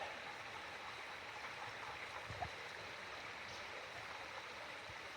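Steady broadband rush of a stream flowing across a forest trail near Bearden Falls in Dawsonville, Georgia, continuous and fairly close, with no voices.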